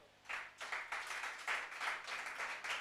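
Applause at a Christian youth camp in Yopougon, brisk hand clapping from a group that swells in short rhythmic bursts at moderate distance, with no talk over it.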